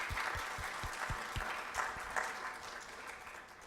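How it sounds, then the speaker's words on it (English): A crowd applauds poster presenters at an international public-health training evening, the clapping steady and fairly close for several seconds before thinning out. "So a round of applause for all of them."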